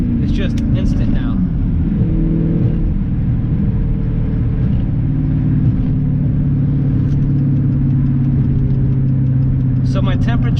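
Tuned Dodge Charger SRT with a Diablo tuner, engine droning steadily and loud from inside the cabin, a continuous low rumble with a brief rise near the start and end.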